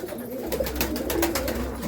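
Pigeons coo in a soft, steady throaty murmur, close and continuous, among a flock that includes crested and feather-footed birds.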